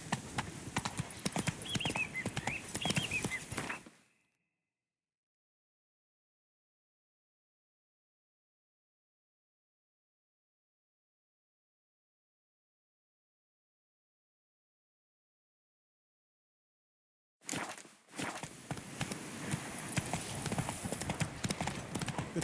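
A horse's hooves clip-clop in the game Witcher 3: Blood and Wine, a rhythmic close trot heard at the start, then a long stretch of silence before the hoofbeats resume, louder and steady.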